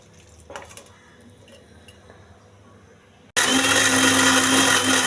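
A mixer grinder starts abruptly and runs loud and steady, blending tomato and mint into chutney in a mixie jar after a few quiet kitchen clinks.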